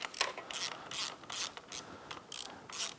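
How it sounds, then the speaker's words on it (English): Ratchet wrench clicking in quick bursts while loosening the outer clutch plate bolts on a Honda Grom, a few turns at a time; close, crisp ratcheting repeated about eight times with short pauses between. "we're going to take out this outer plate. And want to do that a couple of turns at a time"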